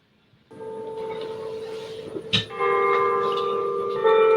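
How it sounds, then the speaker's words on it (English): Church bells in the Netherlands ring with sustained, overlapping tones, a sharp strike partway through, growing fuller as more bells join in. "can you hear those bells, Patty? Yes. I hear the Netherlands bells."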